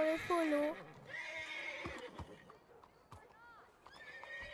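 A horse neighs loudly in the Red Dead game, a whinny with falling pitch at the start, followed by softer hoof clip-clop and background noise, with French voices talking around it.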